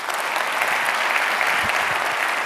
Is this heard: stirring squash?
no